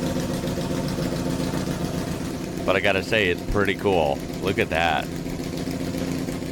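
A BMW M1 ProCar mid-engine race car runs steadily with a low, constant engine drone throughout, while someone talks briefly over the middle stretch.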